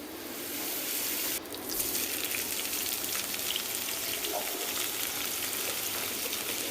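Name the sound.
spaghetti sauce added to hot pan, sizzling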